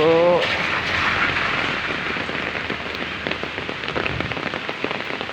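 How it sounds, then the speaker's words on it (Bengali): Steady rain falls outside a home in Uttara, Dhaka, a dense continuous hiss with scattered drops pattering on surfaces nearby, after a brief tonal sound at the very start. "বৃষ্টি ভালোই লাগতেছে"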